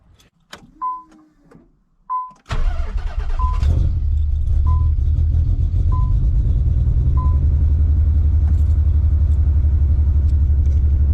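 Several short chimes ring before a Stillen Nissan Z engine cranks and catches, then settles into a loud, steady but slightly uneven idle with a rough, lumpy rumble.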